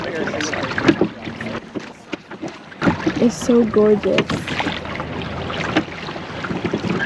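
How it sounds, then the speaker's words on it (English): Paddling on open water on Lake Bled with splashes and knocks of a small paddle boat, wind buffeting the microphone while people chat nearby. "currently on a paddle boat."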